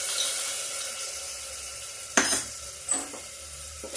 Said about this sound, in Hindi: इससे मसाला पक रहा है मेरा।